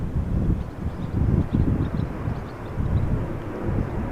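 A China Airlines Airbus A350-900 bound for Taipei moves at Amsterdam Schiphol Airport, a deep, rumbling jet roar that swells and eases, mixed with gusty wind buffeting the microphone, with no talking.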